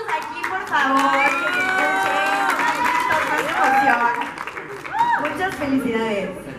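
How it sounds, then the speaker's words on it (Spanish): An audience at a press conference for the pop group CNCO in Mexico claps and cheers loudly, a mix of applause, shouts and excited voices with speech mixed in throughout. "Oigan, más aplausos aquí, por favor."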